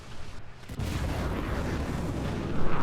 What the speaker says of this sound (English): the effect of enemy APHE shells on my tank